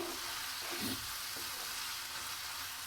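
Chicken pieces frying over medium heat in a pan with oil released, a continuous bright sizzle with occasional stirring scrapes, close and steady with no talking.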